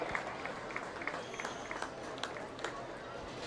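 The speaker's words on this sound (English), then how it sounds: "Let's give him a nice round of applause." Scattered, faint applause from spectators at a livestock swine show, with loose individual claps popping out of a low hum of arena background noise.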